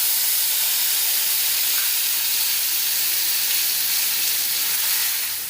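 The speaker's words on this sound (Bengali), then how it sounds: "এবার আমি পেঁয়াজ বাটা আর কাঁচা লঙ্কা বাটাটা দিয়ে দেবো" Ground onion paste and green chili paste sizzling in hot oil in a frying pan, a steady loud hiss that holds for several seconds before easing slightly, with no talk.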